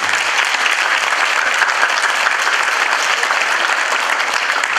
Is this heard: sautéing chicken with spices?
no